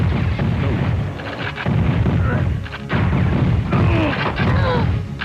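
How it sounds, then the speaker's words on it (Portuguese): Loud PlayStation game gunfire and explosive booms from a 1997 E3 showing, in rapid bursts, dense and continuous, with synthetic echoing effects layered over the shooting. "Ação, aventura e muitos tiros."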